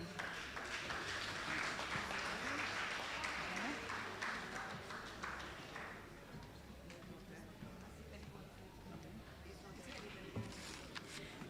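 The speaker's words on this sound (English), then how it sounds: "Let us give Mr. Albert Corsini a round of applause." Applause from diners at a retirees' dinner at a hotel, greeting an honoree, fairly loud at first and then thinning out beneath murmuring voices and background chatter.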